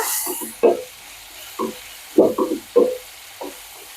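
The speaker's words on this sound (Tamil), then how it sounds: "தக்காளி ஒரு நிமிஷம் வதங்கட்டுங்க" Tomatoes sautéing in a pan for Tamil puli kuzhambu, stirred with a utensil giving scattered scraping knocks over a faint sizzle, close, no talk.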